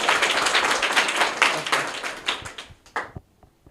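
Enthusiastic clapping for a young girl who answered correctly on a quiz show, a quick flurry of hands that thins into a few scattered claps and then fades out.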